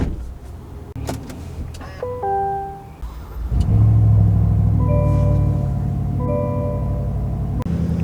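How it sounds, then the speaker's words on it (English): Motorized steering wheel adjustment in a 2024 GMC Sierra 1500 Denali Ultimate pickup, a steady electric whir and hum that starts after a few soft clicks and chimes and runs on for several seconds inside the quiet cab. "and then the steering wheel is power adjustable."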